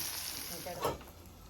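Ivy gourd and potato curry frying in a pan, a steady close sizzle that swells briefly near the middle, with no talk.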